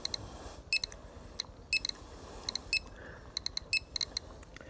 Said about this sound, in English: That's what the beep means.